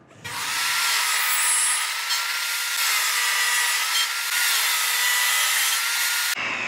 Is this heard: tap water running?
no